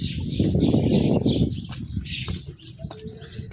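Pigeons coo and flutter at Gangamahal Ghat in Varanasi, where birds are fed, with a few chirps over soft open-air background noise and no talking.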